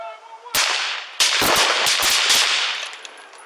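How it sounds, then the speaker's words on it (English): Gunshots ring out during a police shootout with an armed suspect in California: a sharp loud shot, then a rapid burst of several more close together, echoing, with no speech over them. "We got shots fired."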